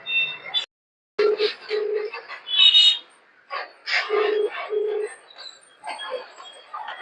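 Phone keypad beeps dialing a call, short paired tones in quick groups mixed with other brief sounds and a sudden dropout, at moderate loudness.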